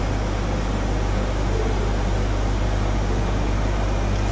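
A Dassault Falcon 7X cockpit in flight fills with a constant, loud broadband roar and a steady low hum, unbroken and with no voices.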